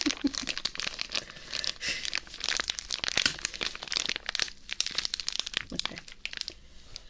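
Crinkly plastic of a toy being squeezed and rustled close to the microphone in a dense, continuous run of crackles and crunches, with one brief spoken word near the start.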